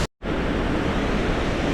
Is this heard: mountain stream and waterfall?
yes